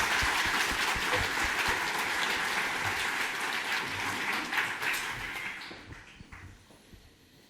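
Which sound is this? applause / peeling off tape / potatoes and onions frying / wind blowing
applause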